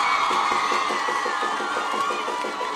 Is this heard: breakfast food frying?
no